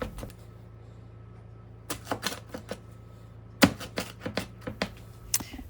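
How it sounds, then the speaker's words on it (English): A knife cuts a Detroit-style pizza into eight to ten pieces, giving a series of sharp, separate taps and thuds against the board in irregular bursts, close and fairly quiet, with no voices. "Cut into 8 to 10 pieces"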